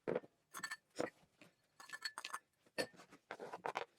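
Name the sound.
chicken salad ingredients added to a bowl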